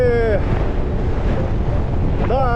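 Strong headwind buffets the microphone while cycling on a Crimean coastal road, a loud continuous roar and rumble with a voice briefly heard at the start and end.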